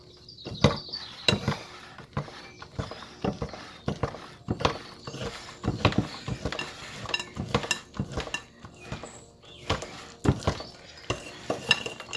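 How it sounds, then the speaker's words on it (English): Ricotta and sugar mixture beaten in a bowl with electric beaters for a blueberry ricotta pannacotta tiramisu: steady rattling and clattering of beaters against the bowl, with frequent sharp knocks, close and continuous, no talking. "go ahead and beat that with my beaters"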